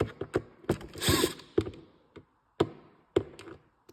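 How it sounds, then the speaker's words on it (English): Hand wrench working loose screws on a 2022 Ski-Doo Freeride, a series of sharp metallic taps and ratcheting clicks in irregular bursts, close by, with a brief rougher scraping stretch early on. "So take your wrench. Unscrew them."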